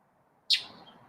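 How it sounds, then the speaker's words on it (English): A single short bird chirp heard close by in the morning, a brief bright call rising out of a quiet background and fading quickly. "the birds are awake"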